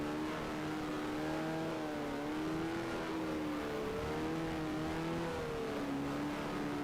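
A Ford Cosworth-engined race car in the F1 Challenge 1975 season drones loudly and continuously, its engine pitch rising and falling steadily through gear changes with no talking.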